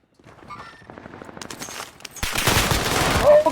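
A PPSh submachine gun fires in rapid bursts during a first-person shooter game, the rattle building loud and close after a brief quieter stretch of distant gunfire.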